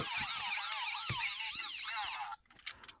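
A Technopark toy police car plays its electronic siren, a loud warbling multi-tone wail running continuously for over two seconds before stopping, followed by faint handling clicks.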